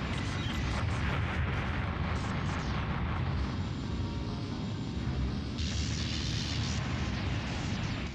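A dreadnought capital ship blowing apart in the space combat game Colony Wars, a loud, sustained rumbling roar of explosions and debris lasting throughout, with crackling bursts and a brighter hissing swell near the end.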